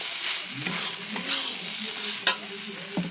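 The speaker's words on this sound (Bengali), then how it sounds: "তারপরে আমি এর মধ্যে ভাজা আলুগুলো দিয়ে দিয়েছি।" Fried potatoes stirred into a frying ghugni masala: a low sizzle with a few scraping stirs of the spoon against the pan, close and fairly soft, with no voices.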